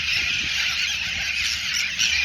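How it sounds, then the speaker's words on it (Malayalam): A large flock of birds calls in a dense, continuous chorus, loud and steady throughout with no pauses and no talking. "ഒരുപാട് കേട്ടോ, ഒരുപാട് പക്ഷി."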